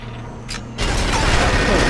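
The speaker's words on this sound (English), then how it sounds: "This is an interesting machine gun, the way it reloads." Machine gun reloading in the James Bond 007: Agent Under Fire video game, a mechanical ratcheting clatter with a short click, then a louder, steady mechanical grind, close and without talk.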